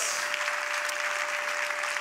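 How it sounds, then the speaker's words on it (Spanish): A church congregation applauds during a sermon, a brief burst of dense, even clapping from many people, with a steady faint tone running underneath. "Dale mejor aplauso al Rey de Reyes, Señor de Señores"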